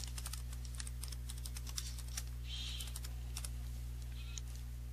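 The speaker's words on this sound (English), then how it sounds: "I'm going to type a name." Rapid clicking of typing on a computer keyboard, a quick run of light keystrokes over a steady electrical hum, close and moderately quiet with no talk.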